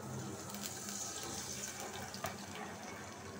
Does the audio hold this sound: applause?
no